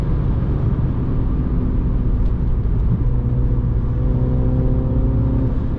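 A Mini JCW's engine drones loud and continuous from inside the car, its pitch climbing steadily as the paddle gearbox shifts up through the gears.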